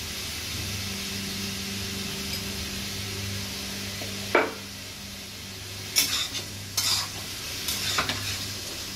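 Food being stirred in a covered cooking pot after salt goes in, several sharp metallic scrapes and knocks of a spoon against the pot over a soft steady sizzle.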